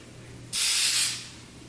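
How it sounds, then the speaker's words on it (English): Hairspray from an aerosol can sprayed onto hair in one steady hissing burst of about half a second, close and clear, then fading away. "And then I just spray, kind of crunch it up a little bit, spray the front."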